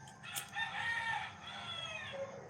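Roosters crow in the morning, a drawn-out cock-a-doodle-doo with clucking around it, heard fairly faint and at a distance, with no talking.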